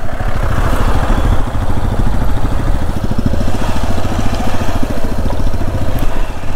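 Motorcycle carrying riders toward Mirik Lake near Darjeeling, its engine running steadily and close throughout, a continuous low throb with wind noise and no speech.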